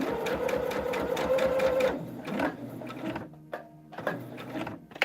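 A sewing machine stitches a quilted hexagon table topper, running in a steady rapid mechanical rhythm that cuts off partway, followed by quieter clicks and handling sounds.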